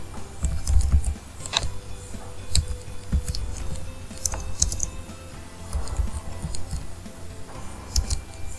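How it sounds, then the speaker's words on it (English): A folder name is typed on a computer keyboard, sounding as a close series of crisp, irregular key clicks lasting several seconds against a quiet room background. "So type assessment"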